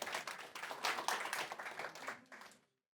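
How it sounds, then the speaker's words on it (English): A small audience at an investor pitching event claps briefly for a presenting duo, a short burst of close, uneven hand claps that thins out and stops abruptly before the end. "Big applause for you two."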